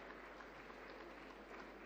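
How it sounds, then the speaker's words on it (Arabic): Audience applause at a Libyan women leaders' forum, a soft, dense patter of clapping throughout, faint and distant. "تصفيقة حارة بالله لو سمحتوا."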